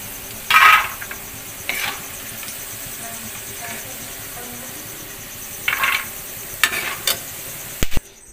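Peanuts roasting in oil in a pan for poha give a steady low sizzle, broken by a few sharp scraping clinks of a spoon stirring against the metal, close up.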